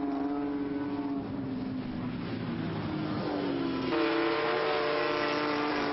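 Classic race cars battle for second place on a track, the number 6 car among them, engines droning steadily with shifting pitch as they run close together, loud and continuous throughout.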